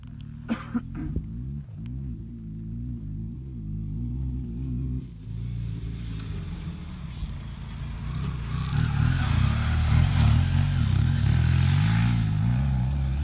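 A BMW adventure motorcycle rides through deep sand at a training park in Victoria, Australia, its engine droning steadily and building louder toward the end, with a few sharp knocks and clatters early on.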